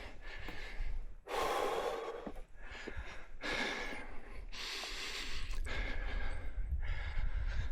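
Hiker catching breath during a climb: loud, close, heavy breaths in repeated long bursts of air, with noisy outdoor rumble in between.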